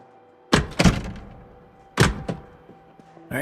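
In the Project Zomboid video game, a door shuts with sharp wooden thunks, a pair of close knocks followed by another pair a second later, loud against a quiet background.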